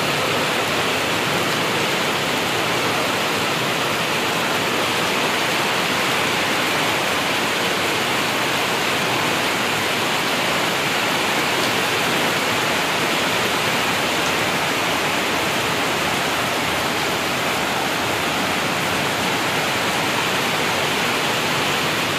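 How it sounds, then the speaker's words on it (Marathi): Heavy pre-monsoon rain with strong wind in the Ghargaon area makes a dense, unbroken roar of hissing noise, loud and steady throughout with no pauses. "तो पाऊस मान्सूनपूर्व पाऊस आता सुरू झालेला आहे"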